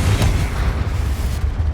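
A Confringo spell explodes in Hogwarts Legacy, a deep sustained rumbling boom that fills the whole stretch, loud and close, with no voices.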